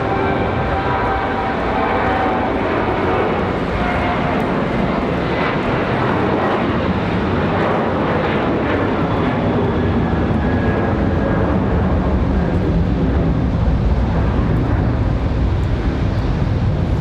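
Loud, sustained engine roar of a Delta airliner taking off at Raleigh-Durham International in snow, a dense broadband thrust rumble with a faint whine that swells slightly toward the end, with some wind buffeting and no speech.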